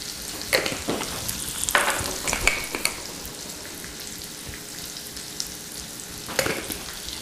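Red potatoes fry in a pan, seasoned with parsley and seasoning salt, giving a steady crackling sizzle close by, with a few louder bursts of spatter and stirring scrapes and no talking.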